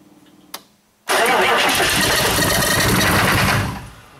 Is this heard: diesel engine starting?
yes